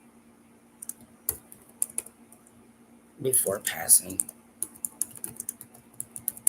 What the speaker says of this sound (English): I'm typing it out so it's there.